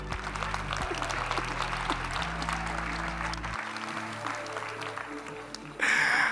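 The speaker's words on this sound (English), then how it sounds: "I'll let you stop the clapping for a bit" Steady applause from a conference audience fills the space, with a low hum underneath and a louder burst near the end.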